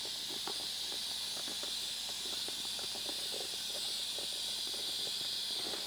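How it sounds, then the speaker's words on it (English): An air compressor in a sewing workshop kicks on and runs as a steady, fairly loud hiss, with faint scattered clicks and taps over it and no talking. "There goes the compressor kicking on."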